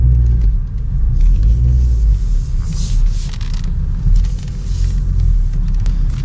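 A car drives slowly into a parking spot near a supermarket, its engine a steady loud low rumble close by with faint road and wind noise and no talking.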